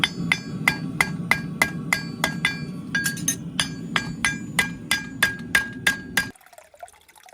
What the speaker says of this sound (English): Just nailing on.